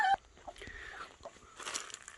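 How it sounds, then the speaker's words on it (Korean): About ten chickens in a small coop on a hillside farm plot cluck in brief, soft calls at moderate distance, over faint outdoor background noise. "지금 현재 닭을 한 10마리 정도 키우고 있습니다"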